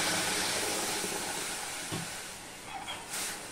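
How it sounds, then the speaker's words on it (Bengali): Water poured into a hot wok with roasted mung dal: a broad, steady steaming hiss that slowly fades, with a few small bubbling pops toward the end. "গরম কড়াইতে আমি এই জলটুকু দিয়ে দিলাম"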